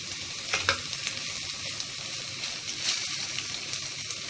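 Dwarf copperleaf fry with cooked toor dal, grated coconut and garlic sizzles in a pan while a spoon scrapes and stirs it in a few quick strokes over a constant, moderate crackle.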